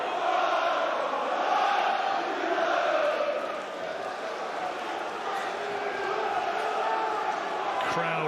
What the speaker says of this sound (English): Crowd noise really building up.